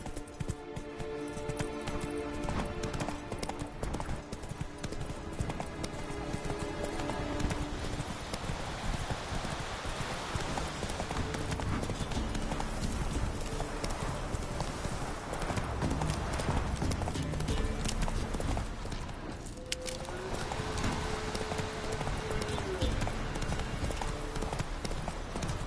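Horse hooves clip-clop steadily while riding in the video game The Witcher 3, a continuous rhythmic trot with background game ambience and music running throughout.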